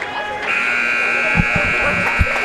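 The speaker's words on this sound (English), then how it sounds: "Buzzer sounds, and that is the end of the first period" Arena buzzer ending a period at a boys high school ice hockey senior night game: a loud, steady electronic drone sounding for about two seconds over crowd noise and thumps in a reverberant rink.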